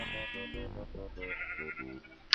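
Sheep in the Minecraft video game bleating in a quick series of short wavering calls, fairly close, ending with a brief sharp click.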